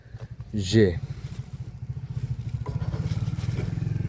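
A motorcycle arrives on a farm near a tube well, its engine putting steadily at close range while someone talks over it and a brief metallic clatter sounds early on.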